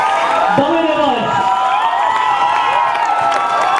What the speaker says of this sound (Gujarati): તેઓનો તાળીઓના ગડગડાટ સાથે આપ સ્વાગત કરશો